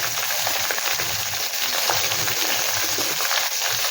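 Potato pieces and pumpkin fry in hot oil in a pan, giving a continuous close sizzle with faint crackles and occasional soft stirring, without talk.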